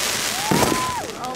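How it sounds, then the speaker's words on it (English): Fireworks burst during a Fourth of July backyard celebration, one loud boom followed by a rising whistle and crackle, with people cheering and shouting nearby. "And that was the last of the fireworks for the weekend."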